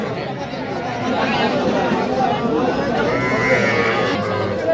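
Cattle, including Burmese cattle, lowing and shuffling amid a busy livestock market, with steady crowd chatter and voices throughout.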